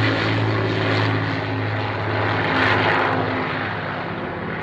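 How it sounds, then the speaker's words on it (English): Avro Lancaster bomber of the Battle of Britain Memorial Flight, its piston engines and propellers droning loudly and steadily overhead, a deep harmonic hum that swells slightly then eases, heard alone. "wanting to talk over the sound of the Lancaster"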